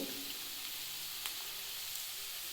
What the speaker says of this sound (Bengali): এখন আমি একটু উল্টে পাল্টে ভালো করে লাল লাল করে ভেজে নেব